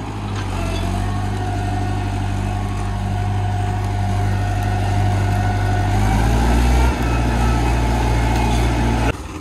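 A Mahindra 575 tractor fitted with a harrow, working a field being prepared for sugarcane sowing, runs with a loud, steady low diesel drone that holds unbroken throughout, with no voices over it.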